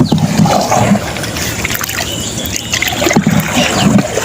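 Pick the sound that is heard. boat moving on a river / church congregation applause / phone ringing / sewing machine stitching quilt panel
boat moving on a river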